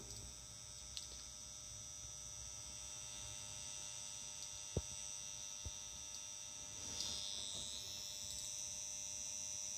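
A car battery charger running in pulse charging mode gives off a steady low electrical hum, faint and continuous, with a few soft clicks and a brief rise in buzz partway through.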